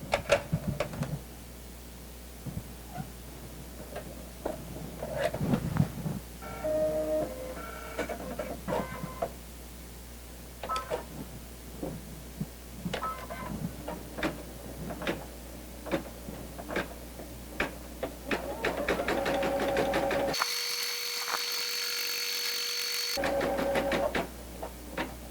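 An embroidery machine stitches red appliqué thread in a steady, close mechanical patter of rapid needle ticks and knocks, rising into a denser whirring run before briefly cutting out.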